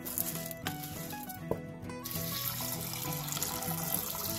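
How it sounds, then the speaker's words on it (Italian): Lentils for a lentil soup are rinsed under running tap water, a steady splashing flow into a sink that stays close and fairly even, with a short clatter near the middle. "Poi le andremo a sciacquare abbondantemente."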